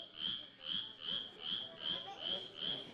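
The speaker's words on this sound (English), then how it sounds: "And then spotted chorus frogs, this one's like probably the closest we have to a ribbit." A spotted chorus frog calls repeatedly in a steady rhythm, about seven short rasping high-pitched croaks in three seconds, close and clear over faint background noise.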